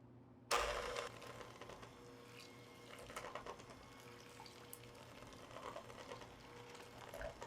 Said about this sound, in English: I'll just grab my hand mixer really quick so we can stir these together.